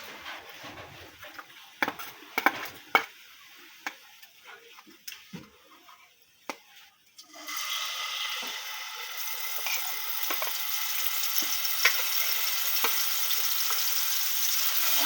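Okra fries lightly in a pan with scattered crackles and pops at first, then a steady, quiet sizzle takes over and continues to the end.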